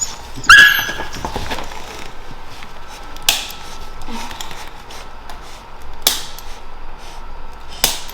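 A Samoyed puppy getting a chiropractic adjustment lets out a sharp yelp early on, then gives a few faint whimpers and sniffs against quiet room noise, with soft rustling in between.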